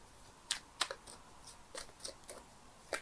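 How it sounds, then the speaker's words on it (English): Tarot cards being shuffled by hand give sparse, irregular papery snaps and clicks, close but quiet, with no voices. "I'm shuffling the cards here"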